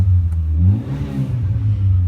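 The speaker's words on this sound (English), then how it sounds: "I'm going to give her a bit of a rev so you can hear what she sounds like." A 1980s Nissan Datsun Cherry N12 engine revs up and settles back, a steady close, loud mid-to-low engine drone rising in pitch around the middle, with no talking.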